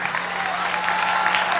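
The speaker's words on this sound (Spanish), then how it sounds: "Vamos a darle un aplauso a estas alcaldesas." A large crowd applauds the mayors at a women's congress closing ceremony, dense continuous clapping close and loud, with a faint steady hum underneath.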